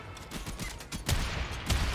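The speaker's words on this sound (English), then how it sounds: "I'm gonna avoid any random gunshots from the side." Gunfire in Warframe comes as a rapid burst of several muffled shots, then two heavier, louder blasts closer together.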